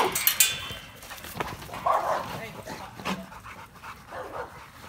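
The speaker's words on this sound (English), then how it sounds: "Wild dog." A dog pants and gives a few short yips and barks close by, loud at first and then softer, while trying to bite through a gate.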